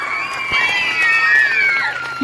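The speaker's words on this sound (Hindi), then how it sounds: "जोरदार तालियों के साथ स्वागत कीजिए मुश्ताक सर का।" Audience at a government high school event in Bhelli, Doda, Jammu and Kashmir, welcoming a teacher: a brief swell of cheering and shouting voices over light scattered clapping.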